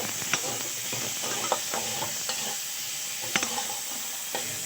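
Chopped tomatoes and grated ginger hit onion and green chilli already frying in a pan, giving a steady close sizzle broken by sharp clinks and scrapes of stirring.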